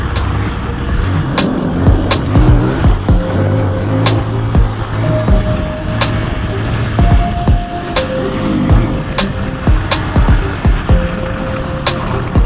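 A trail motorbike engine revs and surges during an off-road trabas ride through a mining area near a reservoir in Aceh, loud and continuous with rising and falling pitch, no talking over it.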